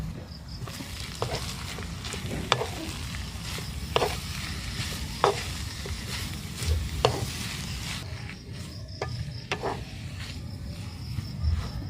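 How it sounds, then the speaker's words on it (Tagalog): Chicken sautés in a pan with onion and garlic, a continuous sizzle broken by sharp scraping clicks of stirring at irregular intervals, close and moderately loud. "Gisahin lang natin to until mag-translucent. Ilagay na rin natin yung ating chicken."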